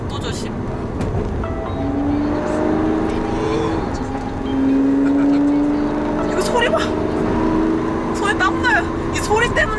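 A Lamborghini Aventador S engine drones and rises in pitch while being driven, heard from inside the cabin, with people talking over it throughout.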